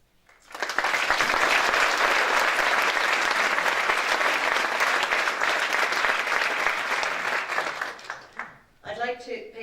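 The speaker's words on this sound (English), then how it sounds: "I'd like to applaud and congratulate all of the creativity and the artistry that we saw over the last 9 nights." Sustained, dense applause fills a hall at the closing ceremony of the All Ireland Confined Drama Finals, swelling quickly, holding loud for several seconds, then tapering off as a voice begins speaking at the end.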